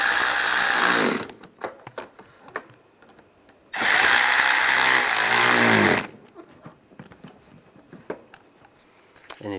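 A power tool tightens bumper screws on a 1999-2005 Volkswagen Jetta in two loud, close bursts of a few seconds each, with quiet clicks and handling noises between them.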